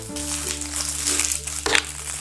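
Packaging around a new bag being unwrapped: crackling, crinkling plastic and paper handled close by, with a sharper crunch near the end over a steady low background hum.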